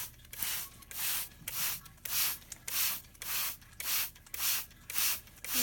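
Repeated bursts from a hand spray bottle misting a cockatiel in a shower, about eight evenly spaced hissing pumps, each roughly half a second long, close and fairly loud with soft background hum between them.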